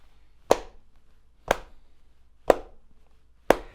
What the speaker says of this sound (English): let's place a sound by clapping right along with the beat